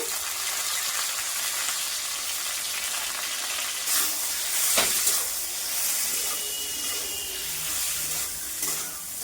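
Salted pointed gourd (potol) pieces, split into quarters, frying in a hot pan, giving a loud, even hissing sizzle with a few sharper bursts of spatter midway.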